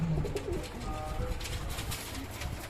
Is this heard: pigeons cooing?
yes